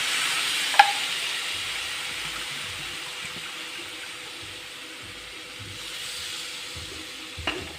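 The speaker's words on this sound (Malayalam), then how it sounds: "ഇനി നന്നായിട്ടൊന്ന് ഇളക്കി യോജിപ്പിക്കുക" A pickle mixture is stirred in a pan on the stove, giving a soft, continuous scraping and faint sizzle close by, with a sharp clink near the start and another near the end.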